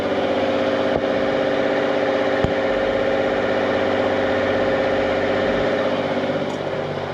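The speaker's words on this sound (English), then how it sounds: "I'm motoring with sails up," A sailboat's inboard engine motors steadily with sails up against a strong current, a close, even mechanical drone with a constant low throb and no talk.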